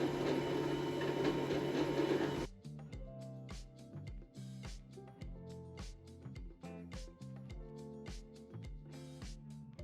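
A sewing machine topstitches a shirt sewn from a tablecloth, 0.5 cm from the seam line. A brief loud noisy burst comes first, then rhythmic mechanical stitching pulses run close and steady.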